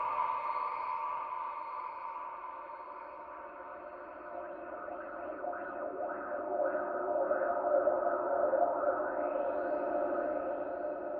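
Sustained Northern Lights synthesizer pad with mod-wheel sweeps, steady layered tones as resonant filter glides rise and fall in wah-like arcs over about eleven seconds, moderately loud and alone.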